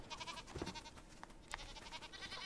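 Goats in the video game Enshrouded bleat in short, faint calls over a low game background, with two or three brief bleats in quick succession.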